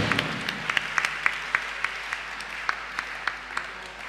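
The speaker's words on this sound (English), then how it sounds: "give a loud clap to the Lord" Church congregation at a Goa worship gathering clapping: a steady run of loud, distinct handclaps in an irregular rhythm over a soft background murmur, with no talking.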